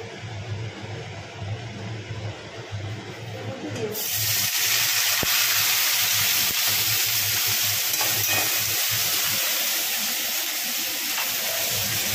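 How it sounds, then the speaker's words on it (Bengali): Chopped carrots, beans, peas and onion drop into hot oil in a kadai, setting off a loud, steady sizzle that continues without a break. "এইগুলো এবারে সবটা দিয়ে দেবো এই তেলের মধ্যে। তেলটা গরম হয়ে গেছে"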